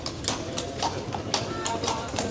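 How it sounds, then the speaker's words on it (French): A horse's hooves clip-clop at a steady walking pace on a tourist street in Italy, a sharp, regular clatter of hard taps heard close, while a person speaks over it. "Là il y a un cheval."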